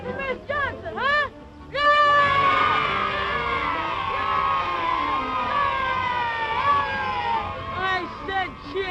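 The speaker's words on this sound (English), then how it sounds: "How do you cheer for Miss Johnson, huh?" A crowd of children cheering and whooping together for their teacher, a loud, sustained burst of high voices that starts after brief speech and fades back into talk.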